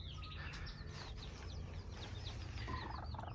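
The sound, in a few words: Naked Neck backyard chickens clucking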